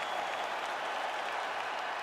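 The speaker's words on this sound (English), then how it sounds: "Stand and cheer" Arena crowd at a UFC event applauding and cheering at the end of a fight, a dense, steady roar of clapping with no pauses.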